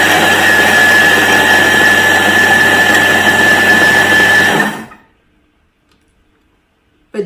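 A Thermomix spins molasses and sugar at speed 8, giving a loud steady whirring blend for several seconds before stopping abruptly, followed by silence and a faint clunk.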